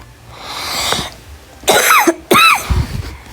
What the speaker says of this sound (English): I have so many coughs today